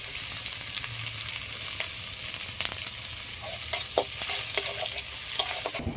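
Thinly sliced onions frying in a pan with a chopped chili and nigella seeds, giving a steady close sizzle with occasional spoon stirs and scrapes, no voices.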